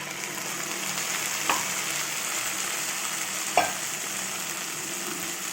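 Ground spice mix frying with fried onions in a pan, a steady close sizzle with two brief stirring scrapes and no talk.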